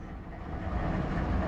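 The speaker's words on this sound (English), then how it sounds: "We got a BNSF train, bare tables, it looks like, so he'll be moving fast." A BNSF freight train made up of empty flatcars rushes past a locomotive cab in California's Mojave, producing a loud, steady rumbling roar that builds slightly across the moment.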